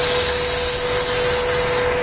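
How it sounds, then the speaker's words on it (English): Rough sandpaper pressed against a spinning wooden turning on a lathe, giving a steady, close, hissing rub that runs without a break, with a thin motor whine beneath it. "I use a kind of a rough piece of sandpaper here."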